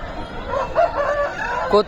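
At the Pileru chicken market, roosters of Tamil Nadu and Aseel fighting breeds crow in short, strained calls with clucking nearby, close and fairly loud over crowd noise, with a sharp final burst at the end.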